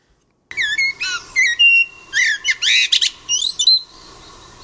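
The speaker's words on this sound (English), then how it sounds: "here's the actual British Blackbird." A British blackbird sings nearby in a series of rich, fluty whistled phrases with short pauses between them, loud and clear over faint background noise, with no talking.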